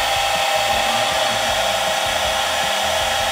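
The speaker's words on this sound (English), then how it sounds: "it started the spindle automatically" A CNC router spindle on a home-built router table runs steadily while cutting a hole, giving a loud, continuous high-pitched whine with a low rumbling, uneven pulse underneath throughout.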